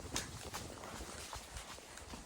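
A horse walking along a field path on a ride to an Iron Age hillfort, its hooves giving faint, steady clip-clops under outdoor ambience.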